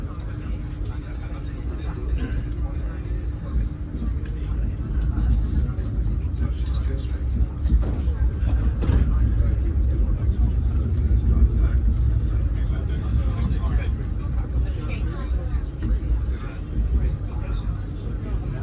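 A train pulls out of Swindon station on the Great Western Main Line with a steady low rumble and engine drone heard from inside, continuous and moderately loud throughout, with a voice talking over it.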